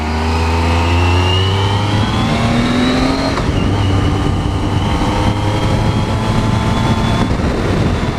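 Triumph Street Triple motorcycle ridden through the countryside, its engine rising in pitch as it picks up speed, with a steady revving whine and a brief gear change midway. The sound is loud and close, mixed with wind, and nobody speaks.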